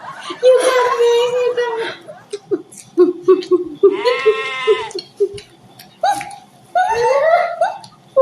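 A goat bleats repeatedly in short wavering cries close by, alternating with a person's speech in a casual outdoor eating scene.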